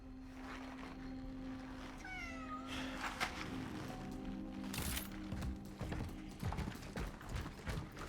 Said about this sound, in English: The louder the meow, the more urgency you're trying to communicate.